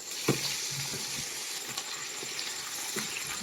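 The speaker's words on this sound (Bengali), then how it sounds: "মিডিয়াম ফ্লেমে কিছুক্ষণ নেড়ে চেড়ে ভাজবো" Cauliflower frying in oil on a medium flame as it is stirred, a continuous close sizzle with soft scraping knocks from the spatula scattered throughout.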